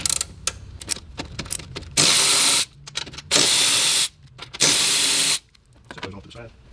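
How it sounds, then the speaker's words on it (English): A 13mm ratchet wrench loosens the strut tower cover nuts on a car, heard as three sustained bursts of rapid clicking close up, separated by quieter handling noises. "We're going to get our 13mm wrench, ratchet."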